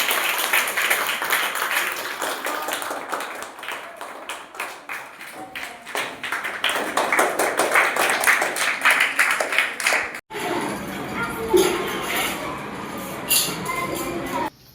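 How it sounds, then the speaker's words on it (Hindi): Audience at a gathering with children clapping loudly in a dense burst of applause that carries on for about ten seconds, followed after a brief gap by scattered claps and murmuring voices. "चलिए एक बार जोरदार ताली बजाइए।"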